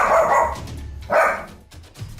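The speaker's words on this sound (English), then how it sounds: "This creepy doll has been freaking out this dog for days on end" A dog barks at a creepy doll, two loud close barks separated by a pause, with a fainter third bark trailing at the end.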